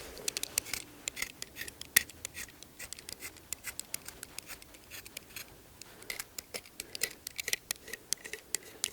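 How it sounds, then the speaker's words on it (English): A blade scrapes bark from a hawthorn branch in quick, faint, repeated rasping strokes, close and quiet, with no voice over them. "And then I just scrape"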